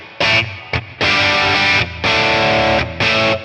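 An electric guitar plays through a 1963 Fender Brown Deluxe amp with the bright switch engaged, giving loud, crunchy distorted chords in four sustained strums separated by short gaps.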